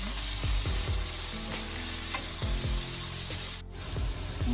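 Fenugreek and cumin seeds sizzle and crackle steadily in hot oil in a pan, with scattered stirring scrapes and one brief sharp hiss, loud and close with no talking.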